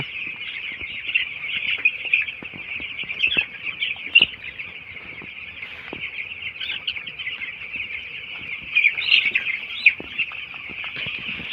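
A flock of chickens clucks and chatters continuously nearby, a busy, overlapping din with occasional louder squawks rising above it.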